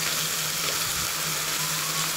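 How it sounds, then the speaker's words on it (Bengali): Ginger and garlic paste sautéing in a pan for a prawn malaikari, a steady close sizzle and hiss of frying with no talk. "এগুলি একটু ভালোভাবে কষিয়ে নিচ্ছি।"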